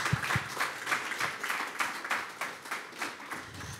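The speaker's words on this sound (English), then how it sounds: "Let's clap it up for Austin" A small audience at a music-tech talk claps for a speaker, with several hands producing a loose, rhythmic patter of fairly soft claps heard steadily throughout.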